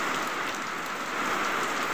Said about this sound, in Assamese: কিন্তু এতিয়া বৰষুণো দেখি গৈছোঁ, ক'তো যাব নোৱাৰি, খালি বৰষুণ